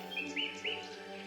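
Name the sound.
birds chirping in the video game Beyond the Edge of Owlsgard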